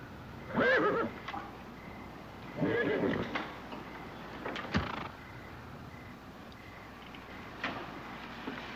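A horse gives two or three loud whinnies and snorts close by, with faint hoofbeats and rustling between them in an otherwise quiet setting.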